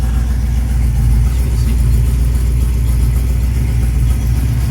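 A 1970 Dodge Challenger T/A with a 340 Six Pack engine idles steadily after a cold start, a loud, even low rumble that holds without a break and no one talking over it.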